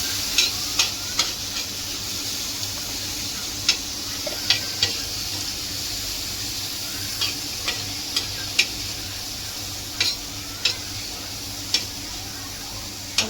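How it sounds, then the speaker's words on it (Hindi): Onions and small chicken pieces sizzle steadily in a pan while a utensil stirs, with regular sharp clicks of metal against the pan recurring every second or so; no talking. "भून रही है प्याज यहाँ अच्छी तरह से।"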